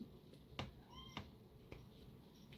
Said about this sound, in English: my cat's name is Ash